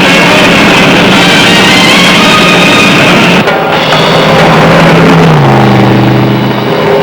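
A 1964 Mercury Comet engine roars loudly at sustained speed on a durability run at Daytona, the steady drone shifting pitch and settling lower toward the end, with no voices.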